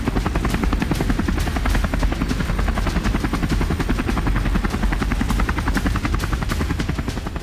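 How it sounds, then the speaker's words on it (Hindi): A patrol helicopter flies over the sea. Its rotor gives a loud, steady, rapid thumping that carries on through the whole clip with no voices. "आसमान में गश्त लगा रहे हेलीकॉप्टर से मागुरा को देखा जा चुका था।"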